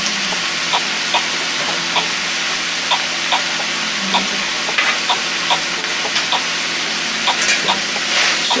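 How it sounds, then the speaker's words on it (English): Cabbage cooks in a pot while a spoon stirs it, giving a steady close sizzle and hiss with regular light scraping knocks roughly every half second. "stir this around. So the bottom part of my cabbage is cooking."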